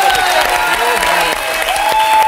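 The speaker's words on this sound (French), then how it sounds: "Vous pouvez l'applaudir" Studio audience applauding on a French TV talk show, a brief burst of loud clapping with some cheering over a background tone.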